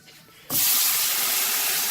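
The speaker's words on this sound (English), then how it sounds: "So from this point I put the water in first." Water is poured into a hot pan of frying rice for Mexican rice, setting off a loud, steady sizzling hiss that starts suddenly and keeps going.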